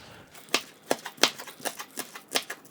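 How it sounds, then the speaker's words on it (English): A kitchen knife chops green onions on a cutting board in a run of about eight crisp, close taps at a quick, fairly even rhythm, heard alone without talk. "just gonna chop a bit of these"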